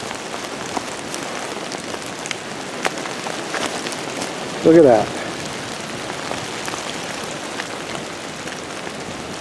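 Steady rain falls outdoors on trees with foamy runoff streaming down a trunk, a constant close patter with scattered louder drops, while someone briefly speaks midway.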